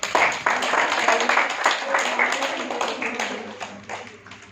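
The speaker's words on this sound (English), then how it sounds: "Applause." Audience applause at a business event, irregular close claps in a short burst that fades toward the end, with talk over it.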